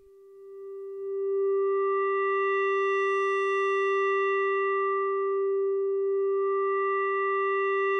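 An Arturia MicroFreak synthesizer holds one steady, bright tone with strong filter resonance just short of self-oscillation. The note swells in over the first second, then sustains evenly and alone with rich harmonics.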